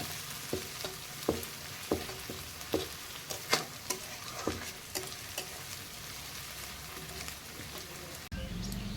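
Goat head curry cooking in a pan over a traditional clay stove, sizzling steadily while a utensil stirs with repeated scraping knocks, a voice murmuring faintly underneath before the sizzle swells near the end.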